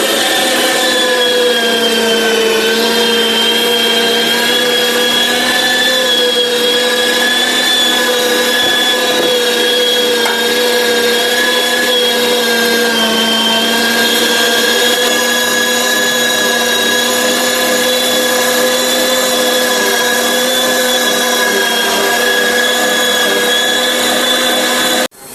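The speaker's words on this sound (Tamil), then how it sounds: "இது கறி அரைக்கிற மிஷினு. இதில் வந்து நம்ம கறி போட போகிறோம்." An electric meat grinder mincing beef runs with a loud, steady motor whine that holds unchanged for the whole stretch, with no voices over it.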